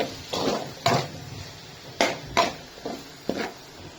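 A metal spoon scrapes and knocks against a pan while tomatoes are stirred and fried for a spicy chicken curry, making sharp clinks in an irregular rhythm of about half a dozen strikes against quiet sizzling.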